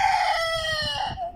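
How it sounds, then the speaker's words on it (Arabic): A rooster on a poultry farm crows loudly and close, one long drawn-out cock-a-doodle-doo that fades at the end. "صوت الديك ماكو احلى منه"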